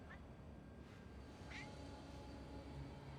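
A cat meows twice in short, faint calls, one early and one around mid-clip, over a steady low background hum from a running game.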